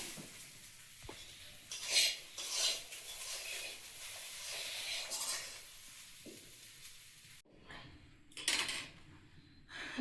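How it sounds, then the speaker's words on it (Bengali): Flour dough for paratha being rolled out by hand, a quiet, close series of soft rubbing and scraping strokes with a few sharper brushing bursts, spaced irregularly with short pauses between them. "আমি অল্প অল্প করে ময়দাটা বেলে নেব"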